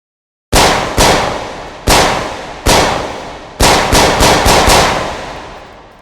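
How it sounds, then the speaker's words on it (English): Gunfire on a video game shooting range: nine sharp, loud shots with ringing decay, four spaced single shots followed by a quicker cluster of five, with no talking. "All right, let's take some shots."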